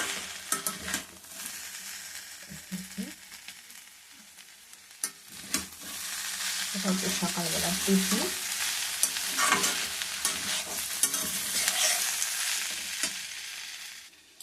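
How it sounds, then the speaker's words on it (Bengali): Potatoes, onions and carrots fry in a pan and are stirred, giving a steady sizzle broken by scraping and clattering stirs. A short spoken remark comes at the start. "আলু, পেঁয়াজ আর হচ্ছে কি গাজর দিয়ে ভাজা করছে"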